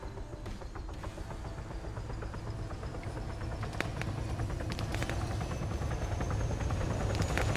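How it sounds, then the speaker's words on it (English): A video game helicopter's rotor thumps and engine drone steadily, growing slightly louder, with scattered clicks and bangs mixed in. "Got a helicopter there as well."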